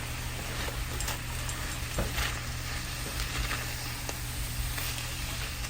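Fried rice stirred in a hot pan with steady sizzling frying underneath and intermittent scraping strokes, close and continuous.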